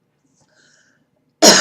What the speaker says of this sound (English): I am still coughing.